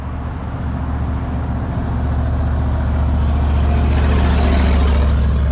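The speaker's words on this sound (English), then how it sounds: "this is gonna be loud. It's a big ass truck." A big truck passing loudly, a deep engine rumble that swells and grows steadily louder as it approaches, heard close and alone.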